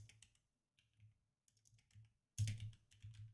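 Someone types a web address on a computer keyboard: quiet, close bursts of key clicks separated by short pauses, with a brisker flurry near the end.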